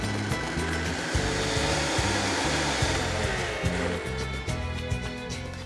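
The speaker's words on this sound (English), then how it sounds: "Turn on the blender and blend everything until you get it as smooth as possible" A kitchen blender purees red chile adobo marinade with spices, a loud, steady motor whir that surges and pulses rhythmically about once a second throughout, with no talking.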